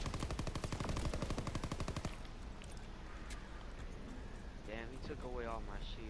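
Rapid automatic gunfire in Call of Duty WWII Zombies during a boss fight, a fast loud burst of evenly spaced shots for about two seconds, then ambient game noise with a brief voice.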